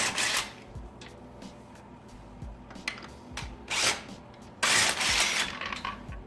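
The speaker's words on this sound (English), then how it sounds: "I have my little DeWalt rattle gun, and then I have the 1/2-inch adapter" A small DeWalt impact wrench with a 1/2-inch adapter spins off wheel lug nuts in a few short bursts of loud rattling hammering, separated by quieter clinks and handling sounds, close by.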